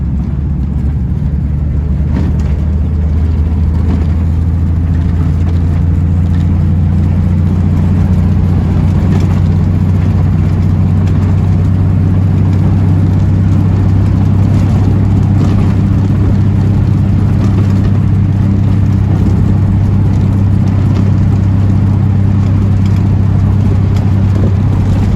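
A 1940 Lincoln Zephyr being driven around the block, its engine a steady low drone heard from inside the car, loud and continuous with road rumble underneath.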